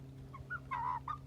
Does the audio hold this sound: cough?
no